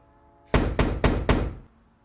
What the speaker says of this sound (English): Somebody's knocking at your door.